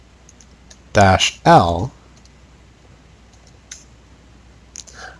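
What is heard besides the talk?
typing a command on a computer keyboard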